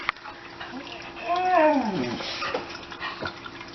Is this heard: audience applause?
no